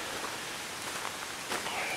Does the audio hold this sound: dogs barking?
no